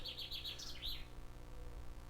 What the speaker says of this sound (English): the beautiful sounds of the birds